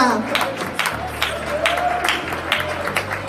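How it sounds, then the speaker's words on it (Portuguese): Church congregation claps along during a sermon, rhythmic clapping bursts over a low sustained organ or keyboard tone, with a voice faintly audible underneath. "Pode dar glória a Deus com as palmas, igreja."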